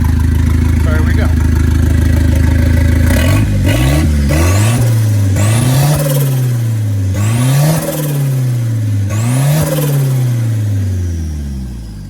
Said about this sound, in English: I'm going to give it a couple revs for you